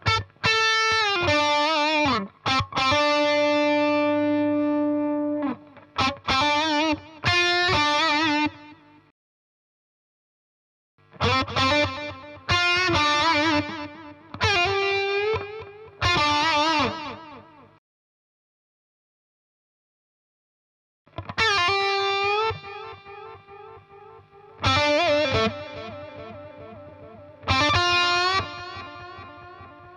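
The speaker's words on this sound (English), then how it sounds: "Here's the delay, and the LED shows you the tempo it is set to." Electric guitar chords through an Engl Ironball SE amp's delay ring out, each strum echoing in long, fading repeats, played in bursts separated by short silences.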